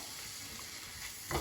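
A soft, steady sizzle of onions frying in a pan, a continuous low hiss with a slight swell near the end.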